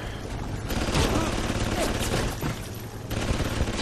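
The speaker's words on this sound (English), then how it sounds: "how can I deal with that turret?" Rapid turret gunfire in the BioShock video game, a dense loud burst of repeated shots lasting several seconds with a mechanical edge, close and continuous.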